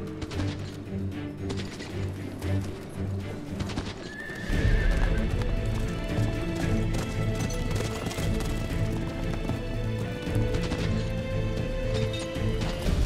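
Horses ridden at speed in a historical setting, with steady rapid hoofbeats and occasional neighs and whinnies over a dense, continuous background.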